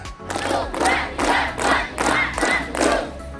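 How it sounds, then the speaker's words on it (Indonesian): A group of campers at a scout character-building camp count aloud together while clapping in rhythm, around six or seven loud bursts of voices and hands in a steady, evenly spaced pattern. "Tepuk tangan 7 kali dihitung."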